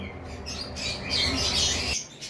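Caged Euing lovebirds from a breeding pair chirp and twitter close by in a dense, continuous chatter that swells in the middle and then drops away.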